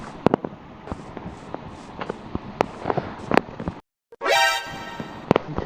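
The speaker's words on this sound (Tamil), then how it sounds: "அது பேர் தான் வந்து க்ரீப்பர் அப்படின்னு இந்த மாதிரி வெடிச்சிரும்" A Minecraft creeper blows up: after a run of sharp rhythmic game clicks and a brief silence, a short loud crackling blast bursts out, followed by more clicks.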